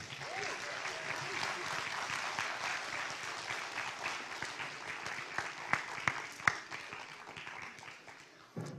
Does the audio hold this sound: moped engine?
no